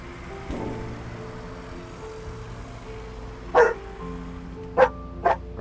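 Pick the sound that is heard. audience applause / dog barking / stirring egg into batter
dog barking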